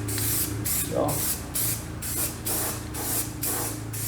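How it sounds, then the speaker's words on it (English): Rhythmic bursts from a spray paint can coat a headstone hoist, about seven short hissing sprays in regular succession, loud and close, with a brief spoken word in between. "spray paint it. I'm going to do 2 coats"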